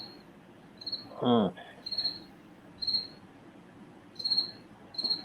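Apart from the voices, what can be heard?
crickets chirping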